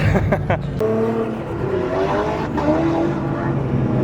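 A Nissan R35 GT-R drives on a race track, its engine a steady loud drone with shifting tones as it accelerates, close and continuous throughout with no talk.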